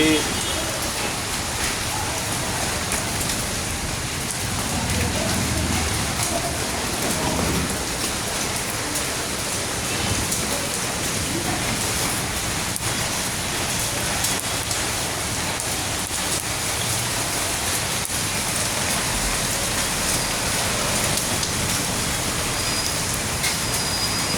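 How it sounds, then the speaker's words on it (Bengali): A heavy hailstorm in Dhaka keeps up a steady, wide wash of hail and rain striking surfaces, with a few sharper hits and a voice speaking now and then beneath the downpour. "ঢাকা প্রচুর পরিমাণে শিলাবৃষ্টি হচ্ছে"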